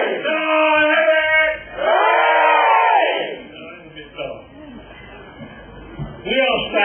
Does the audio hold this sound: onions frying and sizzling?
no